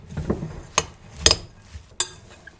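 Potato and leek filling for bolani being mixed and crushed in a bowl, a few sharp utensil clinks and knocks against the bowl with soft mashing sounds between, close and without speech.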